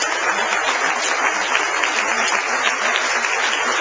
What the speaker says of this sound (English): And maybe you want to give them a nice round of applause.